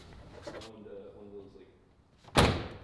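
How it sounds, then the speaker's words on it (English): A car door on a crashed Mazda RX-8 being shut, one sharp loud slam near the end after a stretch of quiet murmuring talk. "Close that door."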